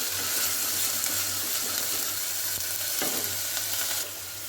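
Ginger, garlic and cumin paste fries with onion paste in a pan for a hilsa fish dish, giving a steady, close hiss of sizzling that eases slightly near the end.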